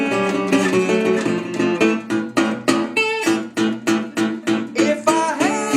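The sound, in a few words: guitar playing open strings into 4th position chord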